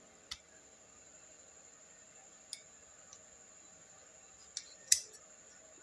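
Scissors snip waste cloth in a few quiet, sharp clicks spaced irregularly over a near-silent background, with the last cut slightly louder.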